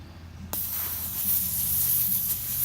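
Air hissing steadily out of a tire as the valve stem is removed, starting abruptly and continuing as a loud, close, unbroken hiss.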